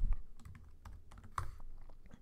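Quick clicks of keys on a computer keyboard while entering a number, a short, irregular burst of close, fairly quiet taps with no voices.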